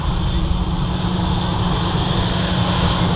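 An easyJet airliner on final approach to Manchester Airport runway 23R gives a steady, distant engine roar that holds evenly throughout without talk.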